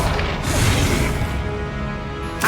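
A Confringo spell explosion in the Hogwarts Legacy video game sets off a loud, close boom and crackling blast, followed by a rumbling burst of debris and a sharp pop at the very end.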